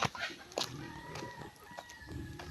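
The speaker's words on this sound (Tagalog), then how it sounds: "let's go naman sa mga manok ni Mahal" Chickens cluck and crow in a busy farmyard, several birds calling in short bursts over steady background noise.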